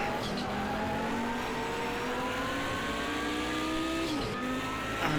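A Nissan race car in Project CARS 2 roars close and loud, its engine note climbing and dropping as it shifts up through the gears, with a brief tire squeal near the end.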